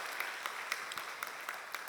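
A church congregation at a Sunday worship service applauding, quiet and somewhat distant with light scattered claps over a soft steady patter.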